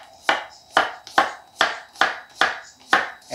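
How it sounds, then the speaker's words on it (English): Knife slicing a peeled cucumber on the bias against a cutting board, seven or eight crisp, evenly paced chops in a steady rhythm, close and clear with no voices. "Cut it on a bias."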